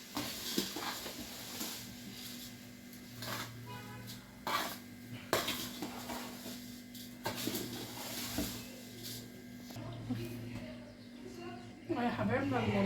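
Metal scraping and clanking of a large cooking pot holding about 8 kg of rice and onions being stirred over and over for a henna celebration, heard close up with people talking throughout.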